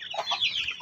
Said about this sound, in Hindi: ये देखे चूजे, और ये मुर्गी के बच्चे हैं